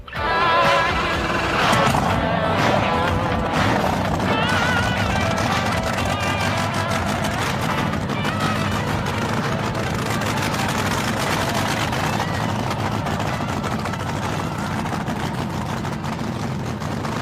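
A 3,000 horsepower nitro motor runs loud and steady, a dense, rough roar with a harsh crackling edge holding continuously at close range, with a faint voice mixed in underneath.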